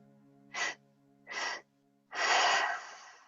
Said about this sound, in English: Mouth is open, breathing in.